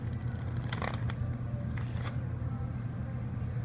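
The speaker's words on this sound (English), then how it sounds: "We're gonna shuffle the deck just to make sure" A deck of playing cards shuffled during a card trick in a Caribou Coffee shop. Two quick riffling bursts ripple through the first two seconds, close and crisp, over a steady low hum of room background.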